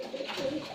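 Short, soft cooing from a pair of local pigeons, a low murmuring call with a brief pulsing rhythm heard close by, with no voices over it.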